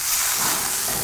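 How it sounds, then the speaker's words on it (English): Lion's mane mushroom steak searing in hot oil in a pan, a steady loud hiss and sizzle filling the whole moment, close by with no talk. "I'm gonna add a little bit more oil because that does help with the searing"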